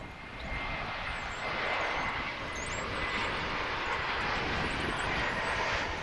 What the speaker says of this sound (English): that was a American Airlines flight destined for Charles de Gaulle Airport in Paris